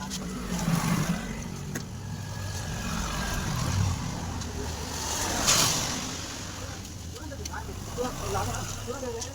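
A Hero HF Deluxe motorcycle engine is started and left running during servicing, giving a steady low idle rumble that swells slightly midway. Background voices can be heard under the engine.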